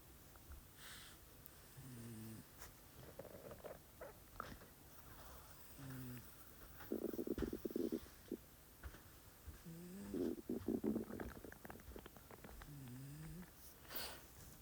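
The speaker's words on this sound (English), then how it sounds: "what you're hearing in the background is my cat snoring" A cat lies close by, snoring in slow rhythmic breaths with soft rising and falling tones, punctuated by rougher bursts, and faint background noises.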